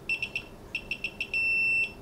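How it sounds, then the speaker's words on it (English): Several short, bright electronic beeps from a Timemore Black Mirror coffee scale as its timer key is pressed repeatedly, ending in one longer sustained beep, close and clear with no talking. "press the timer key until you hear the beep sound"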